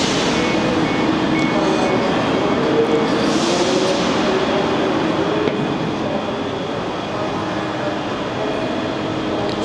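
A TransPennine Express Nova 2 train, a class 397, running with a steady broadband rumble and rush that holds constant throughout, heard from on board.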